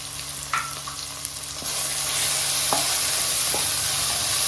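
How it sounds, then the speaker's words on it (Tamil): Ginger garlic paste frying with mint in a pan for foxtail millet kichadi, a few scraping stirs followed by a steadily rising loud sizzle, close and alone. "இஞ்சி பூண்டு பேஸ்ட்டோட ரா ஸ்மெல் போகிற வரைக்கும் நல்லா வதக்குங்க"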